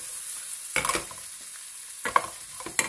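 Sliced courgettes stirred in a frying pan, two bursts of scraping and clattering spoon strokes over a quiet background sizzle, close and moderately loud.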